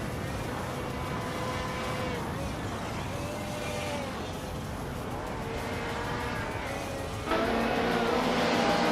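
A BMW M3 GTR Evo race car in a video game race, its engine droning steadily with shifting pitch as it laps, joined near the end by a louder, brighter engine note.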